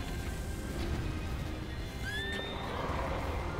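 A horse in the Zelda: Breath of the Wild video game gives a loud, rising neigh over a steady outdoor game ambience, with faint hoof clops around it and no talking.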